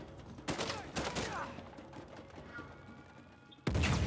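Gunfire in the action video game Uncharted 4: A Thief's End, heard as a few sharp, loud shots close together, then a quieter stretch and another burst at the end.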